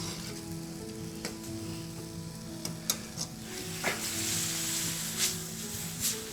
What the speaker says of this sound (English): So you're just going to reduce it down, almost like a stir fry, until it gets dry.